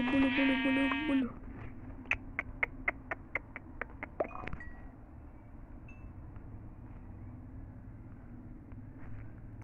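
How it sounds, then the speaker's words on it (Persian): A sheep bleats loudly at the start, a drawn-out wavering call close by, followed by a run of sharp regular clicks and low background rumble. "گوسفندم داریم گوسفند من"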